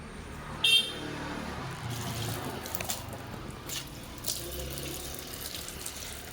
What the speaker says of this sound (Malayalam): ഇതേപോലെ അതിൻ്റെ ചുവട്ടിലൊക്കെ നന്നായിട്ട് അങ്ങ് ഒഴിച്ചു കൊടുത്തു